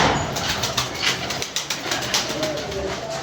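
Pigeons coo softly amid a busy loft, with low murmuring calls under rustling and faint wing flutters and a light scatter of background noise.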